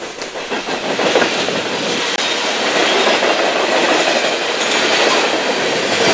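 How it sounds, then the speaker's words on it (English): A freight train rumbles steadily past close by, a continuous loud roar of wheels with clickety-clack rhythm on the rails. "As the train rolls by our location"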